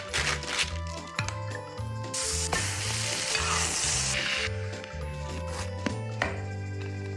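French fries sizzling and frying in hot oil as potatoes are cooked, a steady loud crackle with occasional stirring clinks, alone without talk.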